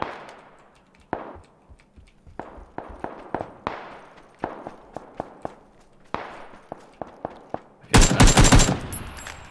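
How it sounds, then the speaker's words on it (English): Gunfire in PUBG cracks out in scattered single shots and short bursts, sharp and echoing at varying distances, ending in a loud close burst of rapid fire. "Shooting is dying out"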